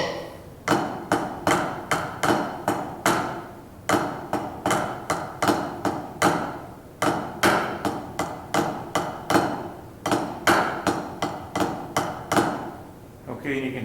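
Snare-style percussion exercise mixing flams and single taps, with accented eighth notes in a steady pulse of sharp, close strikes throughout, played alone.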